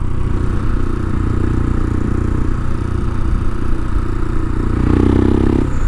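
A Royal Enfield Himalayan fitted with a 462 big bore kit is being ridden, its single-cylinder engine a steady loud drone with mechanical clatter and rushing wind, rising slightly in pitch near the end.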